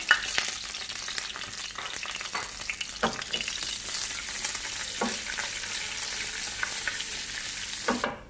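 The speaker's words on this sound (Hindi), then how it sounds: "थोड़ा सा बस इसे फ्राई करेंगे।" Curry leaves, red chillies and cumin sizzle and crackle steadily in hot oil, with occasional sharper pops and stirring scrapes, close up and without speech.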